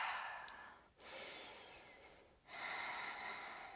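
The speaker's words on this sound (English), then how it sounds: "Breathe." Steady breathing during a yoga plank with shoulder taps, three long breaths, each a soft, airy rush of air separated by brief pauses, close and fairly quiet with no talking.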